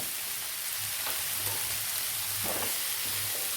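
Chopped tomatoes sauté in a pan for an egg ghee roast, a steady soft sizzle with faint stirring scrapes, close and continuous with no talking.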